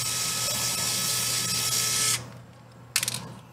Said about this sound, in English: So let's remove all the screws.